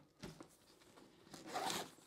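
A small zipper on a tire bag is pulled open, a quiet rasping rip in a couple of bursts that grows louder toward the end, close by with no talking.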